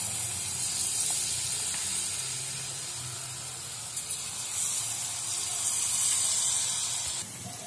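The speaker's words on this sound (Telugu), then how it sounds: "మనకి ఆయిల్ హీట్ అయింది కదా, సో ఇప్పుడు మనం చేత్తో చిన్న చిన్న పునుకుల్లా వేసుకుందాం" Sweet punukulu batter dropping into hot oil and frying, a steady close hiss and bubbling sizzle that runs continuously with small crackles.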